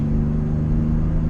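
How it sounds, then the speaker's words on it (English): A 1985 Pontiac Fiero SE engine heard from inside the cabin produces a steady, loud low drone with a firm rumble that holds evenly throughout, with no voices. "let's give it some gas, see if we get some grunt"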